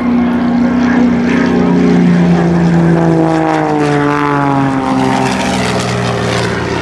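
Aerobatic propeller airplane flying a loop at an airshow, its loud engine drone holding steady and then sweeping lower in pitch as it pulls through the manoeuvre, with no talk over it.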